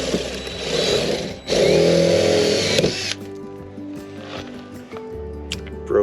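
A power drill whines loudly in bursts with short pauses while fitting gull wing windows to a Land Rover Defender 110, ending in quieter handling noises and clicks.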